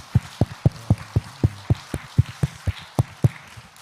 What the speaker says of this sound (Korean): 하나님께 일단 영광의 박수를 드립시다.